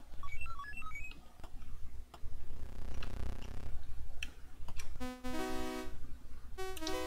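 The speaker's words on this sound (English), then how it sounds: "why is my phone ringing at this hour?" A phone rings during a retro computer role-playing game session, a bright electronic ringtone of repeating beeping tones cutting in over game blips and ticks, loud and close with no talking.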